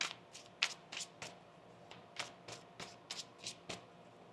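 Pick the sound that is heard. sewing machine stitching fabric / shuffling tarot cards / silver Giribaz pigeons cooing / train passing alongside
shuffling tarot cards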